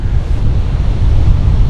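Heavy wind buffets a cyclist's microphone, producing a continuous loud low rumble and roar with no other sounds audible.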